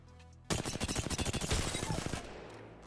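Rapid automatic weapon gunfire from an Apex Legends match, a loud burst of about fifteen close, evenly spaced shots followed by a fading tail of reverberating noise.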